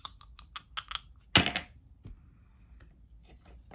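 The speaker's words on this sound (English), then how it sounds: "you take these 2 dice and you roll them simultaneously" Two movement dice for a board game rolled together, a quick scatter of small hard clicks followed by a sharp clatter as they tumble and settle on the table, then a few faint taps.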